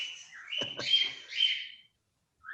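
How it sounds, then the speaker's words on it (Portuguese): An agitated cockatiel gives sharp, shrill calls in a quick burst of three or four, close and fairly loud indoors, then a short pause before another call starts. "A calopsita tá nervosa ali."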